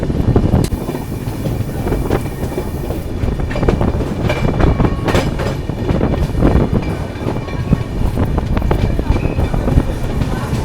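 Capital Express train 13248 rolls along toward Kishanganj station, with a loud, continuous rumble of wheels and carriages, rattling clanks and heavy wind buffeting the microphone throughout.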